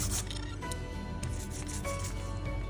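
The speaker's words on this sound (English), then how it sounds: "I have that Velcro sound." A print being burnished by hand with steady side-to-side strokes, giving a continuous, close, Velcro-like rasping rub that keeps going throughout without pause.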